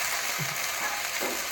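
Vegetables and potatoes frying in a pan of oil, giving a steady, low hiss of sizzling with a few soft scraping clicks from stirring. No one speaks.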